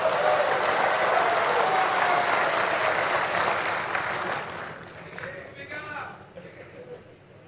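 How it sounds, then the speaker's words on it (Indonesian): Applause from an audience at a Perindo party national working meeting, dense clapping at first that thins and fades into scattered claps toward the end, heard without speech. "tepuk tangan saja kayak ragu-ragu."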